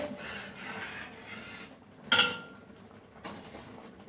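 A thick onion lehyam mixture is stirred in a cooking pot, a low soft scraping broken by two sharp metallic clinks of the spoon against the pot's rim.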